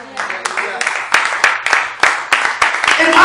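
A church congregation claps in quick rhythmic bursts, sharp claps repeating about three times a second over a steady murmur of voices.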